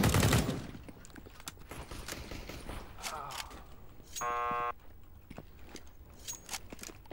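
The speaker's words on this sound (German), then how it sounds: "Oh, ein USP-Schuss, zwei Kills" USP pistol shots in the video game CS:GO, a few sharp, sudden cracks separated by quieter stretches with clicking mechanical game sounds and a brief steady electronic tone partway through.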